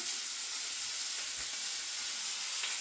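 Bluegill fish fries in a pan with a steady, close, hissing sizzle that holds evenly throughout without talk.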